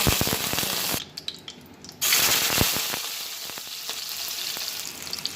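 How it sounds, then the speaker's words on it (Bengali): Onions fry in a wok with a strong, continuous sizzle and sharp utensil clicks and scrapes, briefly dropping quieter for a second before the loud crackling returns. "পেঁয়াজ ভাজা হয়েছে পেঁয়াজটা"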